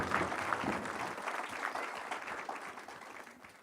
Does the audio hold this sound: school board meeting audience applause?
yes